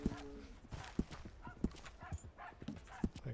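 Horse hooves clip-clopping in a Wild West video game, a string of sharp, evenly spaced hoof knocks heard close against light background sound.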